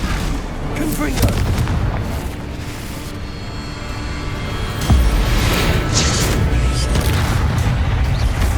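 A Confringo fire spell blasts in Hogwarts Legacy, with dense rumbling booms and crackling bursts, one heavier impact midway, loud and close under continuous game sound.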